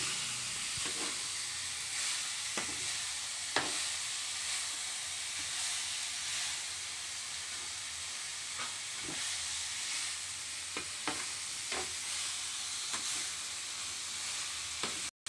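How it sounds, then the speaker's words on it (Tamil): Steady sizzling from beetroot sautéing in a hot pan with occasional scraping stirs and clinks of a utensil, close and continuous, no talking. "இது இன்னும் நல்லா வதக்கிக்கலாம்"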